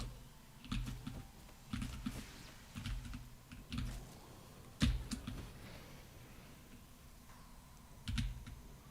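A new, very loud computer keyboard clatters in irregular bursts of keystrokes during a video game speedrun, close and crisp, with pauses between flurries.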